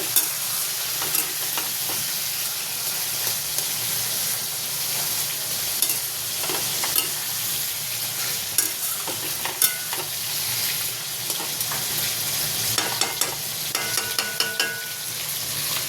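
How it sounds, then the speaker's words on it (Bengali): Pieces of hilsa fish fry in a pan with a continuous close sizzle, punctuated by repeated sharp scrapes and taps as they are stirred and turned, growing busier toward the end. "এখানে ইলিশ মাছ ভাজা হচ্ছে।"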